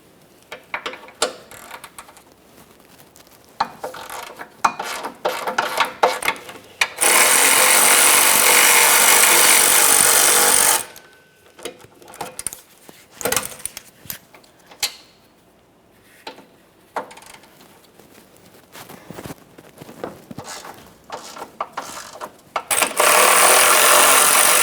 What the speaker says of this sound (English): We'll remove our 2 16mm headed mounting bolts